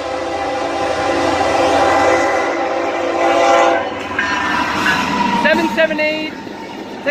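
Norfolk Southern freight train with a heritage-unit locomotive passing a crossing, horn blaring loud and close with sustained harmonic blasts over rumbling wheels and rail noise, shifting pitch as it goes by.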